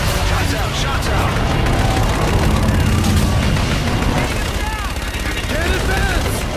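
Artillery strike explosions in the Call of Duty Infinite Warfare video game rumble as heavy booms and gunfire over a dense battlefield din, loud and continuous, with voices talking over the action.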